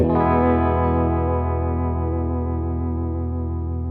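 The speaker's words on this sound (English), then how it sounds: "when you don't have a dry signal to compare it with, it ends up sounding not like a phase shifter, but like vibrato" A Fender phaser pedal with its blend set fully wet gives a sustained tone a steady, wavering vibrato-like shimmer. It plays loud and alone, slowly fading across the clip.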